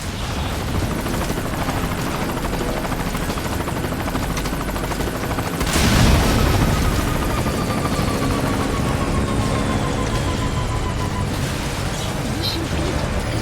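Helicopter in Metal Gear Solid V, a constant loud rotor roar with a brief surge and rush of wind midway, thrumming steadily with speech in the background.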